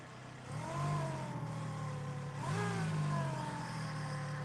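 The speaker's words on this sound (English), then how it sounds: "That supercharger on that car does sound pretty wicked." A supercharged rock crawler's engine revs twice at an extreme rock crawling event, rising and falling in pitch with a rough mid-range roar and a supercharger whine, moderately close and with no voices.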